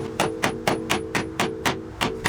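A hammer strikes a part on a Nissan S13 drift car nine times in an even, steady rhythm, each blow a sharp metallic knock, close and clear with no talk.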